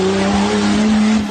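An old Toyota Land Cruiser PJ70 works hard off-road, its engine droning steadily at high revs in a brief, loud burst with tonal whine over rough rumble.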